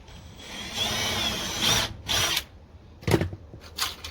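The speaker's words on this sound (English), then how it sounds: "I'm actually piloting the screws, otherwise we've got a chance that it could split it" A power drill pilots screw holes into the edge of a wooden board for mounting shed guttering, giving several short close whirring bursts with pauses between them.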